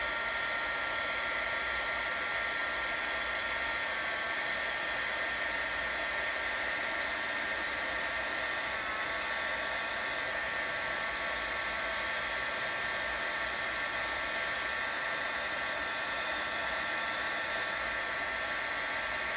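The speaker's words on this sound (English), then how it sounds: "And then I'm going to go ahead and heat set that. So once again, I'm going to make sure the heat gun is aimed away from me." Heat gun blowing steadily for about nineteen seconds while setting embossing powder on a papercraft project, a continuous hair-dryer-like whoosh heard on its own with no talking.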